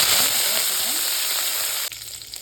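Mustard seeds and urad dal sizzle loudly in hot oil for a South Indian sambar and poriyal lunch. The dense, steady crackling hiss runs close up, then drops sharply in level near the end.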